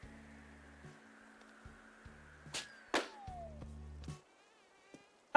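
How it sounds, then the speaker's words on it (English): A mosquito's thin buzzing whine drifts in Animal Crossing: New Horizons amid soft game music and chimes, punctuated by a couple of sharp swishing hits near the end. "I got bit by a mosquito!"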